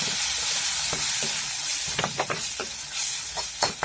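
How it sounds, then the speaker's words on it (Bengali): Whole spices, turmeric, chili, cumin, coriander, meat masala and garam masala frying in a pan for matar paneer curry, a steady close sizzle with repeated scraping stirs and clicks of a spoon against the pan. "ভালো করে ভাজি করে নেব।"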